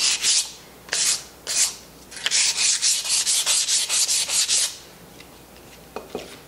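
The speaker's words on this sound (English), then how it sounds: "I'm going to scuff up a little bit of this with sandpaper." Sandpaper scuffing the painted surface of a terracotta pot, a series of loud, close, rhythmic rasping strokes, a few separate rubs then a quick run of back-and-forth passes that fades to quieter scraping.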